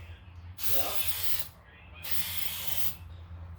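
Two short bursts from a Plasti Dip spray can coating a car emblem from a few inches away, each a loud, close hiss lasting under a second, separated by a brief pause.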